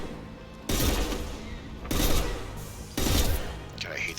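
Three bursts of rifle fire in the video game Mass Effect Legendary Edition, each lasting about a second, loud and close with pauses between them. A faint background sound lies underneath.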